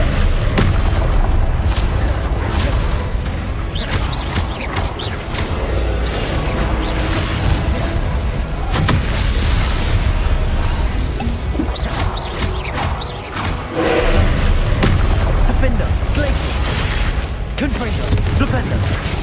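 Spell-casting blasts and explosions from Hogwarts Legacy come as repeated booms and crashes over continuous game noise, loud and dense, while a player voice shouts spell names over the action.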